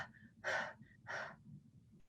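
A person demonstrates fast breathing through the mouth as an anxiety exercise: two quick, audible breath bursts about half a second apart, close and fairly soft, with no talking.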